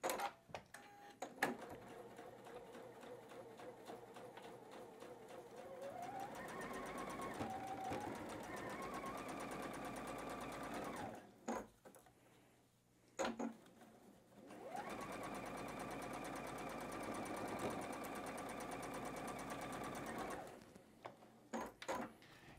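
A sewing machine stitching batik quilt block seams, two sustained runs of rapid whirring with stops and a few clicks between them, close but fairly quiet.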